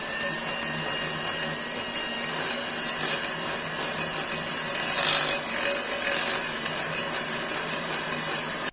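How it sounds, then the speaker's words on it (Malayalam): Electric beater whirring steadily through butter and powdered sugar in a bowl for cookie dough, a continuous mechanical hum with brief scraping bursts against the bowl, close and alone without talk. "നമ്മള് ബട്ടറും അതേപോലെ തന്നെ പൊടിച്ച പഞ്ചസാരയും നന്നായിട്ട് ബീറ്റ് ചെയ്ത് നല്ല ക്രീമി ആക്കി എടുത്തിട്ട്"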